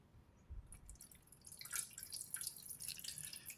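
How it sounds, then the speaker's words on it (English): Liquid nutrient mixture poured into an indoor hydroponics garden tank, heard as faint irregular dripping and trickling splashes that build after a quiet start, with no talking. "we're going to pour our mixture into the tank."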